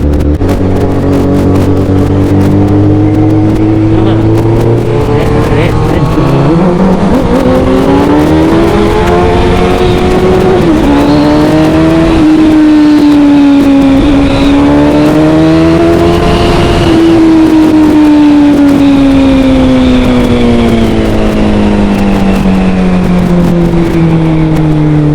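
Motorbikes accelerate hard at a night biker rally on a smooth, lit bypass road, engines droning loud and steady with rising and falling revs throughout, no talk.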